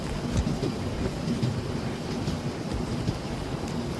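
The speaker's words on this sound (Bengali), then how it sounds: "ট্রেনের শব্দটা আমি আপনাদেরকে একটু শোনাচ্ছি যারা যারা ট্রেন জার্নি করতে পছন্দ করেন।" Steady rumble and rhythmic clatter of a train running, heard from inside a carriage on a rainy journey, continuous and moderately loud with no voices.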